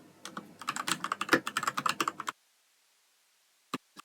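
Fast, close typing on a computer keyboard while writing TensorFlow code clatters in a steady two-second burst, then stops, followed by a couple of isolated keystrokes.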